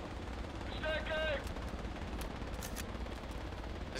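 Distant automatic gunfire from the military shooter game Project Reality, rattling bursts sitting in a steady noisy battlefield bed with a brief electronic beep tone early and sharper cracks later.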